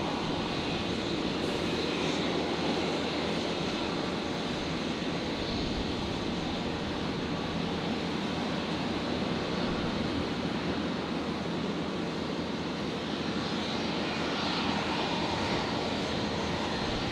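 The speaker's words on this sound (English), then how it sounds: "So Qantas 1934 just touching down there." A Qantas airliner touches down at Brisbane Airport, its engines a steady broadband roar that fills the whole stretch with no clear peaks, sustained and moderately loud with wind-like rush behind it.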